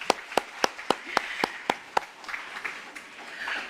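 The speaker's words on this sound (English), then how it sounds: "Let's give them another round of applause." Scattered hand claps at a conference, a dozen or so distinct slaps at first that thin out into a light, fading patter of applause.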